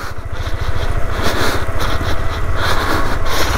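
A motorcycle engine labouring up a steep mountain road on a new route in Ladakh, its rough, steady throb running close and loud throughout with no talk.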